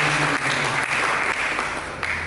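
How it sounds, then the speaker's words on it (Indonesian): A church congregation claps during a worship service, a close, full burst of steady applause over a low hum of music or voices. "Mari kita berikan tepuk tangan yang mulia bagi Yesus Kristus"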